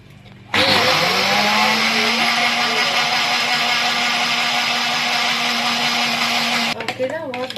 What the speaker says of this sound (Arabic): وهنضربهم بقى في الخلاط